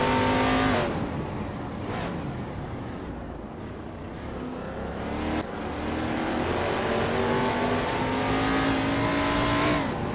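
Race cars in a racing video game rev and roar past one another, engine tones rising and shifting as cars overtake, with steady loud engine noise throughout and several distinct pass-bys.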